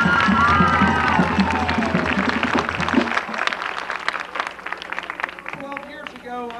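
A crowd of Roosevelt Wilson High School fans in West Virginia cheering and clapping at a basketball event, loud at first with whistles, then thinning into scattered shouts and claps while a voice speaks over it.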